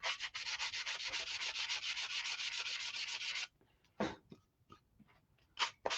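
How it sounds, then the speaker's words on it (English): Wood being sanded by hand in quick, steady back-and-forth rubbing strokes for several seconds, up close and loud, then stopping, followed by a few isolated scrapes and short strokes. "So we'll just sand this,"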